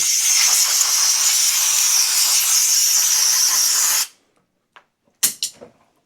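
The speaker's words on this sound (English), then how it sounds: "Gum out, carbon choke cleaner is all we use." Gumout carb and choke cleaner sprays onto the carburetor of a Toro Z Master lawn mower in one loud, steady hiss for about four seconds. The hiss cuts off and is followed by a few faint clicks and taps.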